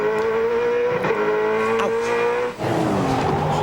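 A touring race car at the 2001 Bathurst 1000 brakes hard for the elbow corner, its engine note dropping through downshifts before surging again under acceleration. It is loud and close throughout, and there is no talk.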